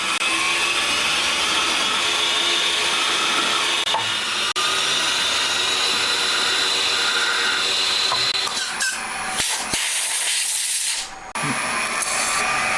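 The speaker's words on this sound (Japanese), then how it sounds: "DRO のセット終わったらどんどん穴開け進めていきます。" Drilling a row of evenly spaced holes on a DRO-equipped machine: a loud, steady grinding whine runs unbroken for most of the stretch, then briefly drops out and returns near the end.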